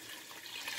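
Water poured into a cooking pot holding chicken for Cuban imperial rice, a brief steady splashing rush, fairly quiet and close, with no talking.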